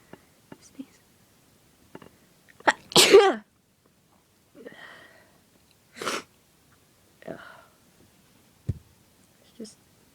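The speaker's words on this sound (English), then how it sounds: "I think I'm gonna sneeze." A person sneezes loudly from pepper after a few faint sniffs and breaths, then gives softer, shorter sneezes and sniffles spread over the following seconds, close up in a quiet room.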